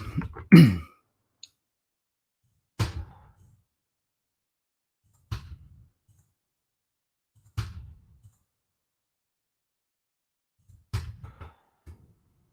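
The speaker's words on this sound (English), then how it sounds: "Sorry for the clicking noise. My keyboard's such a piece of crap." Sparse, isolated clicks from a worn computer keyboard come a few seconds apart, each short and sharp against near silence, with one slightly louder cluster at the start.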